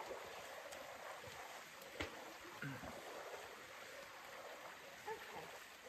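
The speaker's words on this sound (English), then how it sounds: "Beautiful river here that we're hiking alongside of." A river runs beside a hiking trail in misty rain, giving a soft, continuous rushing wash with a few faint clicks and knocks, quiet and steady throughout.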